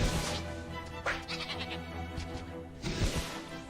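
A sheep-like creature in the Ni no Kuni video game gives two wavering, nasal bleats, one at the start and one near the end, with a fainter tonal game sound between them.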